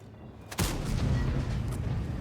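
A tank cannon in a video game fires an armour-piercing shell: one sharp, heavy boom that cuts in abruptly after a quiet lead-in, then a sustained low rumble that decays slowly.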